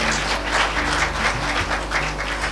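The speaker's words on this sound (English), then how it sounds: "I think they all deserve a big round of applause" Round of applause from an audience at a Segian Talks event for the speakers, a steady wash of many hands clapping at moderate loudness with a low hum underneath.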